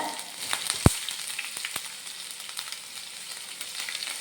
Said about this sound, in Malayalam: ഇഞ്ചിയും വെളുത്തുള്ളി ഇവിടെ മൂത്ത് വന്നിട്ടുണ്ട്